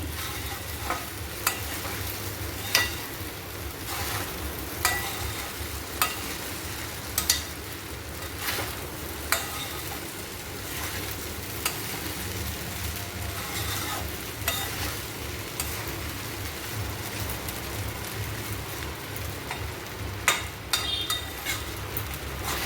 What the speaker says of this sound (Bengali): আরও আমি 1-2 মিনিট ভালো মতো মিলিয়ে নিচ্ছি।